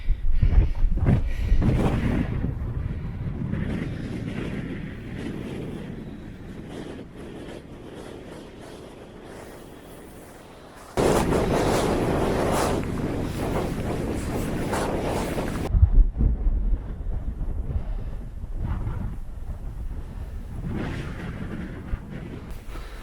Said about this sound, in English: It's a chilly wind, but it's a pretty good view.